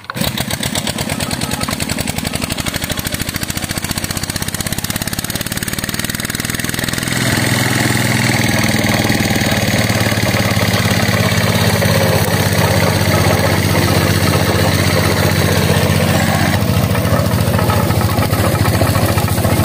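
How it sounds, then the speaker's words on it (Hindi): Loud, steady engine chugging close by, driving a sugarcane juice extracting machine in a village jaggery-making setting; the pitch shifts after several seconds as the machine takes load, running alone without talk. "जिस मशीन से गन्ने का रस निकाला जाता है, तो ये मशीन खड़ी आप देख सकते हैं, ये इंजन के चला रहे हैं ये।"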